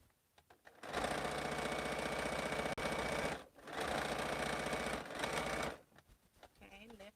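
A quilter's sewing machine runs in two long, steady bursts of rapid stitching on a seam, pausing briefly between them, with quiet handling noises before and after.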